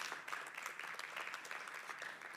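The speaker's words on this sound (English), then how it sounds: "Please, round of applause." Steady audience applause at a blockchain developer conference stage, a dense, even patter of many hands clapping at moderate distance without pauses.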